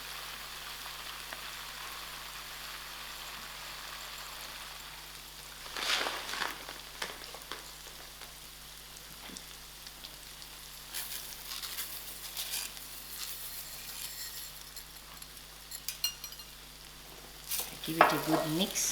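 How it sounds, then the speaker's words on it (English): Risotto rice frying in a pan for a seafood paella gives a soft, steady sizzle. Louder crackling bursts come as grains are poured and shifted, heard close and alone. "So I'm adding in this 1 large tumbler of"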